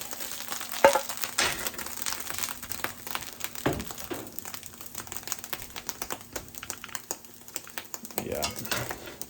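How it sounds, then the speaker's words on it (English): A spatula scrapes and taps through caramelized ground beef in a hot pan while it cools off the heat. The stirring gives irregular clicks and scrapes over a faint, low sizzle. "I gotta continue to stir this until it cools, otherwise it will burn."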